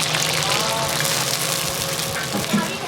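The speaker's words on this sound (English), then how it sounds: "Next unique ingredient is taro stems. She just threw them in with a bunch of oil, frying those up as well." Taro stems frying in plenty of oil at a Yunnan street food village, giving a steady, close hiss and sizzle with some low clattering and background bustle throughout.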